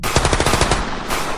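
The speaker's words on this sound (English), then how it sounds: "Gunfire erupted and 2 of the 5 officers shot 4 times each" Police officers firing inside a school building, a loud, close burst of rapid shots in quick succession followed by a sustained echoing roar.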